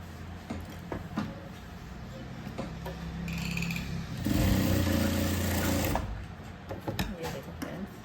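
Sewing machine stitching the shoulder seam of a padded blouse, a whirring mechanical run that builds to a loud sustained burst in the middle, with clicks and handling noise around it and someone talking over parts.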